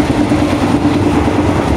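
Thai passenger train Rapid 133 runs on the rails with a loud, steady rumble and a low mechanical drone, continuous throughout with no talking.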